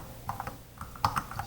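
Quick keystrokes on a computer keyboard while coding a bouncing-ball program in C++ with SFML: about a dozen light, close clicks in an uneven burst, with no talking over them.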